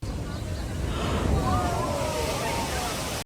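Seawater surges and sloshes up to the doorway of a beachfront house, a continuous rushing wash of waves that swells slightly in the middle and cuts off abruptly.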